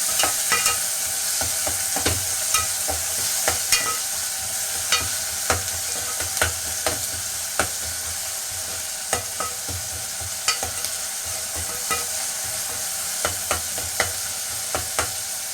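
Tomatoes sauté in a pan for mint sambar, a soft, steady sizzle broken by regular scraping and clicking strokes of a stirring spoon, close up and without talk.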